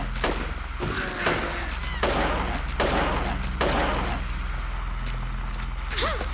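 Gunfire in the Silent Hill 3 video game, several loud separate shots spaced about a second apart, with brief rumbling and clatter between them over a low background drone.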